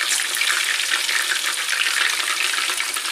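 Dense, bright crackling of food frying in hot oil, likely crispy squid or chicken, a continuous loud sizzle close by with no talking.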